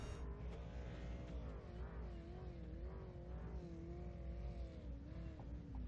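Race car engines idle and rev steadily on the grid in a sim racing video game, a continuous wavering engine drone with no talking.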